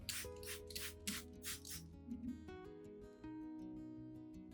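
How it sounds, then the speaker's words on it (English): A spray bottle mists an orchid plant: four or five quick, close hissing bursts in a row, then they stop, with soft music playing underneath throughout. "Mist the plant to help maintain humidity."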